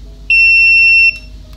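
A single sustained electronic beep from a multimeter continuity test on an MSI AMD HD 7970 graphics card, high-pitched and steady for nearly a second, starting and stopping abruptly over a quiet background hum.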